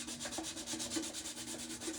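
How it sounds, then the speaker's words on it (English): Steady back-and-forth rubbing of sandpaper over a wooden mailbox being prepared for chalk paint, fairly close and even in rhythm, with no talk. "All right, so I'm just sanding it just to give the paint something to stick to."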